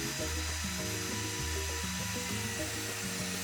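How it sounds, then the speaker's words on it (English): A table saw with its blade tilted to 45 degrees cuts wood into cleats, a loud continuous whine and rumble whose pitch shifts in steps as the blade works through the board, with no voices. "I tilted my saw blade and I put a 45-degree angle onto my pieces of wood"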